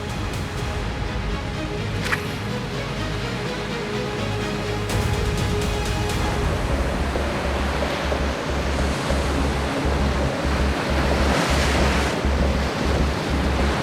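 Ocean surf rolls in along a reef ledge off French Polynesia, where a big roller builds into a steady, loud wash of breaking water with wind noise across the microphone and no voices.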